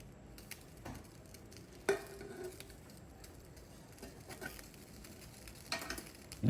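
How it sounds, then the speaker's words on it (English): Black beans being stirred in a pan make a faint, close sizzle with quiet scraping and a few soft clicks of the spoon, low in level throughout. "Just gonna stir the beans around a little bit."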